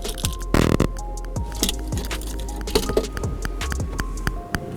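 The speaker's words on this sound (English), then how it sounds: "these are the two keys" Car keys for a 2020 Mercedes-AMG S 65 Final Edition jangle and clink close by in a quick series of metallic taps and rattles, with a brief louder shake near the start.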